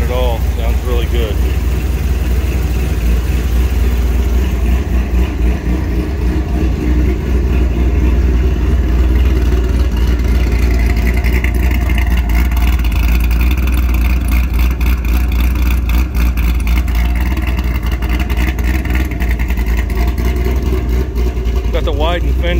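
A 2006 Corvette Z06 with Corsa exhaust, headers and an aggressive cam idles steadily, a loud deep engine drone holding for the whole stretch with a voice talking over it.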